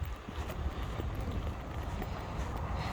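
Steady wind buffets the microphone on a snowy morning walk, a continuous low rumbling roar that stays even for the whole few seconds with no voices.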